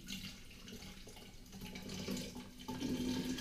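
Orange-flavoured water poured through a coarse sieve, a steady close splashing trickle that grows slightly louder and fuller toward the end, with no talking.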